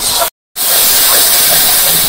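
Masala with salt and turmeric sizzles loudly in a pan for a village-style chicken curry, a continuous bright hiss broken by a brief silent gap near the start.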